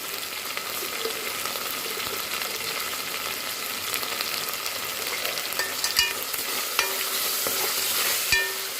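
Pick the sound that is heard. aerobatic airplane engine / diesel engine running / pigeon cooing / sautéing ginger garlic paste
sautéing ginger garlic paste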